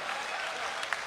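Audience at a poetry recital applauds for poet Rahat Indori, a dense continuous wash of clapping that holds steady for the whole brief moment.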